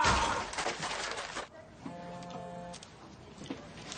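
A 2D paper printer runs at an office desk, giving off a steady mechanical whir with clicking after a noisy opening, at moderate volume and fairly close by.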